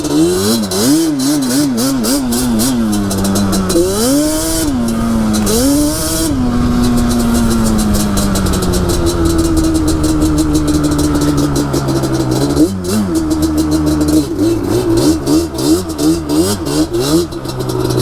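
Yamaha Banshee ATV with a two-stroke engine screams on its powerband, a loud, continuous, buzzy wail whose pitch rises and falls repeatedly as the throttle is worked, close up and without talk.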